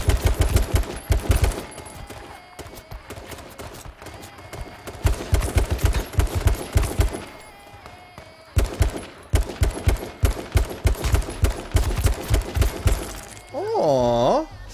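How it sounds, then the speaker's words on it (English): Rapid bursts of automatic gunfire in a video game, loud and close, coming in several sharp volleys separated by brief pauses, ending with a short whooshing effect. "I just got shot three times behind a tree."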